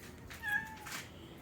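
A single house cat gives a clear, drawn-out meow at close range in a quiet room, with a second softer rising note following it.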